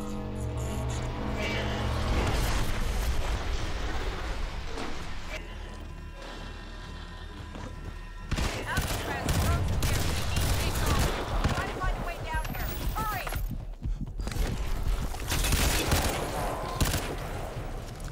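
Grendel rifle gunfire in Crysis 2: repeated loud shots and crashing impacts in rapid, irregular volleys, with someone talking over the shooting.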